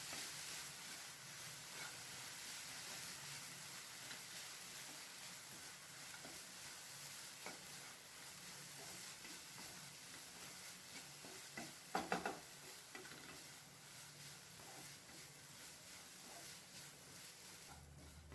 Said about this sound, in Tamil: இதை நல்லா கலந்து விட்டுக்கலாம்.